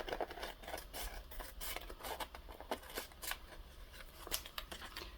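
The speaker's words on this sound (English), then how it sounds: "Help if I turn my scissors over the proper way." Scissors snipping paper while trimming envelope pages for a gingerbread junk journal, a quick run of close, crisp cuts with soft paper rustling in between.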